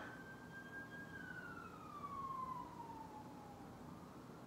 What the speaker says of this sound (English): Sorry, ambulance just went by there.